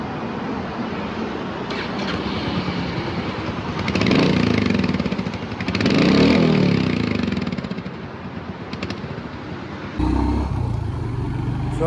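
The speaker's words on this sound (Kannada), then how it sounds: "ಸೊ ಬನ್ನಿ ಎಕ್ಸಾಸ್ಟ್ ನೋಡಿ ತೋರಿಸ್ತೀನಿ." A Royal Enfield Hunter 350 motorcycle, 349cc single-cylinder, idling close by with a steady rhythmic thump from the exhaust, swelling twice as the throttle is blipped, then cutting to a different, harsher tone near the end.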